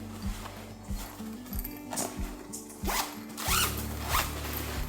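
A zipper on a compact travel sub-bag is pulled open in several short rasping strokes, close and fairly loud, with low rhythmic thumps and handling noise underneath and no talking.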